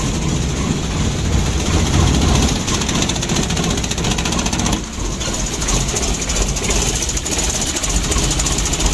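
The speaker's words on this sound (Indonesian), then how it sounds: "untuk mesinnya sudah hidup, Lur. Coba kita lihat dari sebelah kiri." A Mitsubishi L300 diesel engine with a rough, shaky idle runs steadily and loudly up close, a continuous rattling drone with a slight dip midway and no talking.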